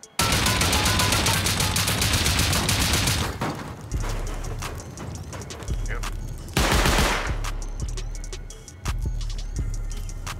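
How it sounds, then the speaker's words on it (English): Several automated gun turrets firing from a level below in a base-raiding video game: long, rapid machine-gun bursts with short gaps between them, loud and dense, one burst after another. "I hear like three turrets below us"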